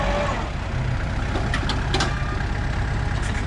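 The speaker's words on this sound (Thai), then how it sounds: "รถไถครับคูบาต้า" A Kubota 45 hp farm tractor idles nearby in rural Thailand, a steady rough engine rumble with a faint hiss, no talking.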